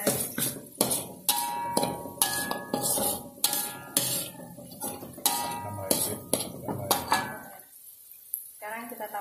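Metal utensil scraping and clinking against a pot while noodle seasoning is stirred in, with repeated sharp clinks in an uneven rhythm over a steady background, then a brief lull and a final soft clatter.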